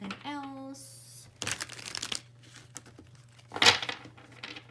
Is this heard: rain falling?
no